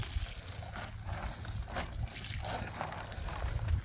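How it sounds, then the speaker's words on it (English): Water is poured over dwarf tomato plants in a GreenStalk vertical planter, a steady trickling and splashing wash that runs unbroken for a few seconds with no talk. "another douse for these tomatoes so that I can make sure they are nicely watered in"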